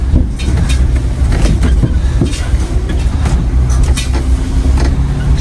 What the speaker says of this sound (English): I definitely hear something rattling in the front